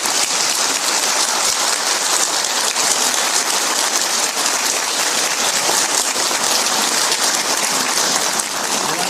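Dense, sustained applause from an audience at a religious talk, a steady wash of many hands clapping at a loud, even level with no voices over it.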